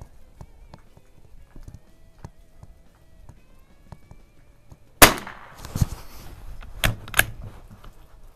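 A single sharp .22 LR shot from a 1935-37 Mossberg No.42 bolt-action rifle at an outdoor range, loud and close, followed by a few fainter clicks and knocks of handling the action.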